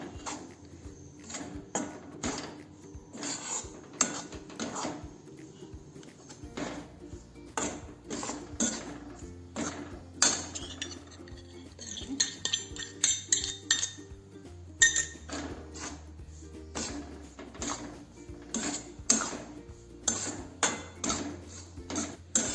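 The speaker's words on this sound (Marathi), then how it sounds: "आणि सतत असं हलवत राहायचं आहे" Wheat flour dough for modak being stirred with ghee in a pan on the stove, producing a steady stream of close metallic scrapes and clinks of spoon against pan, repeating in an uneven rhythm with no talking.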